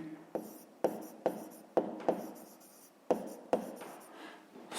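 Pen writing on paper while working a fifth-grade math exercise: a close series of short scratchy strokes, each starting with a sharp scrape and trailing off, in irregular bursts with brief pauses between, alone and fairly quiet.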